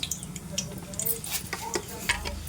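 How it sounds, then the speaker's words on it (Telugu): Tempering spices and dried red chillies sizzle softly in a couple of teaspoons of oil in a kadai, stirred back and forth with scattered scraping clinks and small crackles, close and moderate in level. "పోపు గింజలు వేశాను చక్కగా అటు ఇటు తిప్పుకుంటూ ఫ్రై చేసుకోవాలి"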